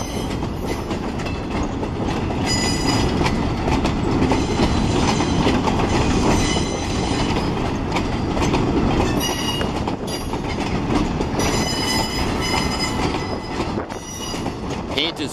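Freight train boxcars roll steadily past close by, with a continuous loud rumble, clattering wheels and scattered high metallic squeals throughout.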